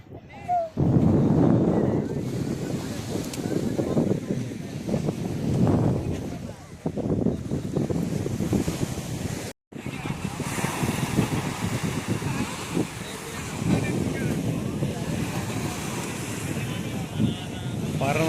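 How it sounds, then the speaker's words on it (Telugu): Gusty wind buffets the microphone at an Arabian Sea beach in Kerala, with a continuous roar of waves beneath, and a voice speaks over it for much of the time. "బీచ్లో ఉన్నాము ఈ బీచ్ వచ్చేసి మనకు అరేబియా బీచ్ అరేబియా సముద్రం"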